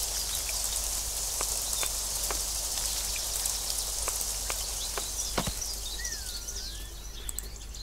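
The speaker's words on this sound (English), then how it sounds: "And we have rain." Steady rain hisses in the survival crafting game Craft The World, with a few sharp drip or tap sounds scattered through and a faint chirp-like tone near the end.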